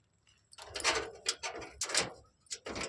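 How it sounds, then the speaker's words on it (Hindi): Doors being opened in a village home, a series of scraping, rattling bursts with creaks, several separate movements over a few seconds, close and fairly loud with quiet gaps between. "दरवाजे खोल रहे"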